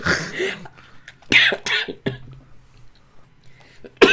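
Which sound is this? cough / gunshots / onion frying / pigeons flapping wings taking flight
cough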